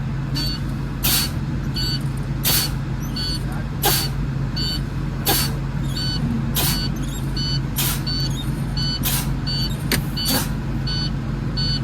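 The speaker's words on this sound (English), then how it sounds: "I will continue to lower the pressure slowly by pumping the brake pedal so both my tractor and trailer brakes activate" Tractor-trailer air brakes hiss in a series of sharp, regular bursts as the brake pedal is pumped to lower the air pressure, each release loud and close over a steady idling engine rumble.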